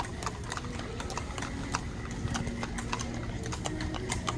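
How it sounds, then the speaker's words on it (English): Horse hooves clip-clop steadily on a hard floor at the Fort Worth Stockyards during a horse ride, a brisk, even patter of close, distinct hoofbeats over a busy indoor murmur. "And then they got a horse ride going on right here."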